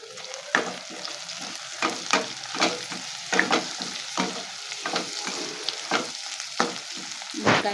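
Drumstick, cucumber and tomato pieces fry with turmeric in a pan, giving a continuous close sizzle with a quick series of scraping, clacking stirs throughout.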